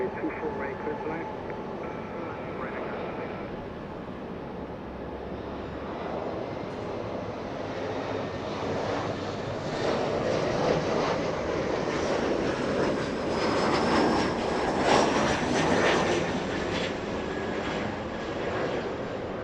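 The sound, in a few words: jet airliner engines at LAX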